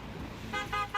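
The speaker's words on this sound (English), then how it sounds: "Honk for spring snow" A car horn outside honks in several short toots, three quick blasts in a row over faint background room noise.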